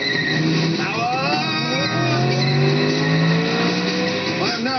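A new Ford Fiesta drives fast indoors, its front-wheel-drive engine loud and close with pitch climbing through the revs as it accelerates, tyres working for grip, and no voices over it.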